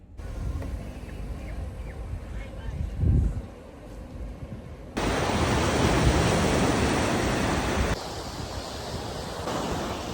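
Waves breaking at Kite Beach in Dubai, a loud broadband wash of surf mixed with wind rumble on the microphone, rising after a quieter stretch and holding steady.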